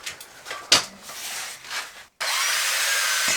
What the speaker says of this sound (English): So for this hole, I think I'll just stitch drill around with this.